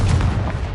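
Confringo blasting spell in Hogwarts Legacy, a short, heavy explosive boom with a punchy onset and a rumbling tail, loud and close.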